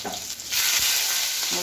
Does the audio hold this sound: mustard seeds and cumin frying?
yes